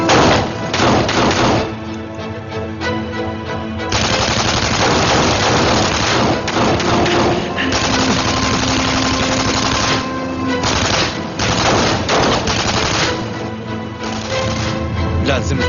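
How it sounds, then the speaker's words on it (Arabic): Rapid machine-gun fire rattles through an action-drama shootout in repeated loud bursts separated by brief lulls, the volleys staying close and forceful throughout. "رح يبلش اطلاق نار."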